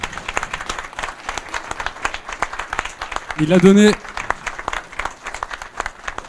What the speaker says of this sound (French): je pense qu'on peut applaudir le patron